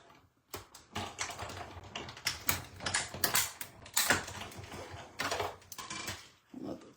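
Paper pieces being die-cut by hand with cutting dies, heard as close, brisk clicking and tapping bursts in an irregular rhythm, crisp and fairly loud, with no talking.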